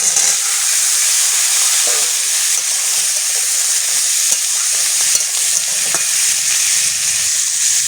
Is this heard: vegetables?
yes